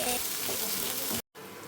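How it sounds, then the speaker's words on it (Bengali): Fish pieces fry in a pan with ginger and garlic paste, giving a dense, steady sizzle close by that drops out for a brief moment near the end before resuming, with no talking. "হালকা করে ভেজে নিয়ে আদা আর রসুন বাটা দিতে হবে। সব কিছুকে ভালো করে ভেজে নিতে হবে।"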